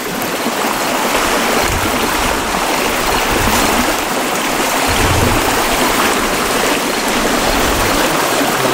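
A creek rushes loudly and continuously outdoors at ruined ranch buildings, a dense close wash of flowing water that fills the scene without pause.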